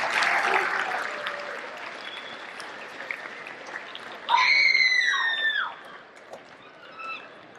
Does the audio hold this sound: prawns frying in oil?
no